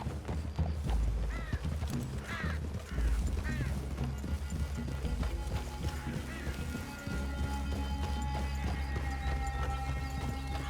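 Horses walk with a soft, irregular clip-clop of hooves in Red Dead Redemption 2, joined by occasional bird calls and ambient outdoor game sound at moderate volume.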